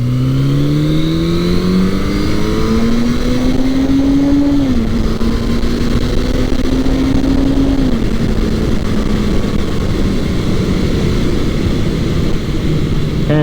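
Suzuki GS650G motorcycle accelerating hard through the gears, its engine note climbing steadily, dropping at each shift, then rising again, loud and continuous with no talk over it.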